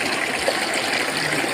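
Water is poured over hands for ritual hand washing in a Hindu puja, a steady close stream of flowing, splashing liquid with no break.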